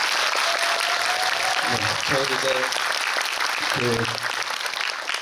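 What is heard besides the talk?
audience applause at a film screening Q&A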